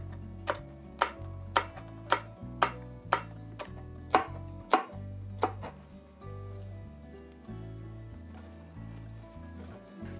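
Knife julienning green pepper into thin strips on a cutting board, about a dozen crisp, evenly spaced chops close up, then quieter handling as the cutting stops.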